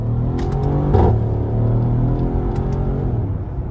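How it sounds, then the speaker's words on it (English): Exhaust of a 2019 Mercedes-Benz GLS 63 AMG with a 5.5-liter bi-turbo V8 accelerating, a loud, steady, deep rumbling drone heard from inside the cabin with a slight pitch shift midway and no talk. "Just a crazy sound from this exhaust."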